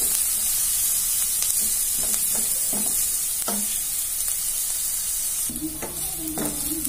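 Chopped onions sizzle steadily in a hot pan while being cooked for cheese pasta, with a constant frying hiss and occasional stirring scrapes and clinks from a utensil close by.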